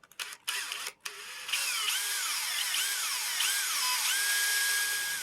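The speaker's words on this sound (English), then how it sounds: "I'm going to drill a little hole." A small hole drilled while refurbishing a Shaberoku toy, a high whining rotary drill that starts after a few brief bursts and holds steadily, its pitch dipping and rising as it bites into the material.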